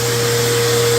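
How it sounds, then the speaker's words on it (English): A shop vacuum running beside a machine lathe used to core a pool cue, a loud steady hum with a constant tone and no change across a brief moment. "Vacuum is on."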